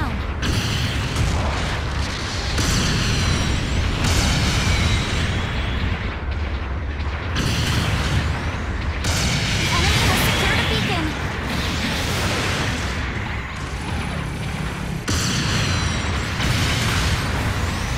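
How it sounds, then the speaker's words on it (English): Supporting artillery fire in Gundam Battle Operation 2, a dense, continuous barrage of heavy booms and blasts that stays loud for the whole stretch, with overlapping impacts and mechanical battle noise and voices talking at times beneath the barrage. "Supporting fire incoming!"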